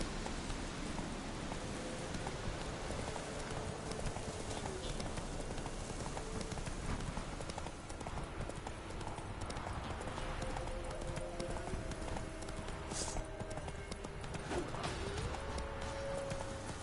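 Roach, a horse in The Witcher 3 video game, gallops in a rapid, steady clip-clop of hooves that carries on throughout, with a soft neigh and faint ambient rumble beneath.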